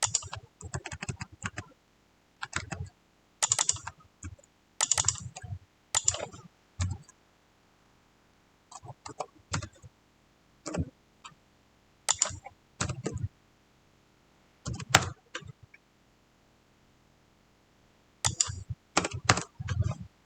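Bursts of computer keyboard typing, quick clusters of close, crisp key clicks separated by short pauses of near silence, with no talking.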